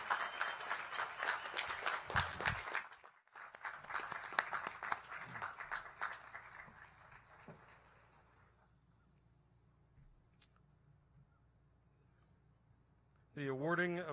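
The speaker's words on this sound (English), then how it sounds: "Let's give these kids a big round of applause because they've been through a lot this year." Crowd at a high school graduation ceremony applauds for the graduating class, dense clapping for about three seconds, briefly pausing, then resuming and fading out, with a voice returning at the end.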